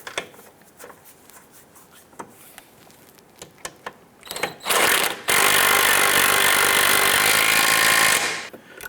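A power tool rattles as it runs a nut down onto the rear engine mount bolt of a 2005-2007 Ford Five Hundred. A few sharp clicks and taps come first, then a loud, sustained buzzing whir of about four seconds.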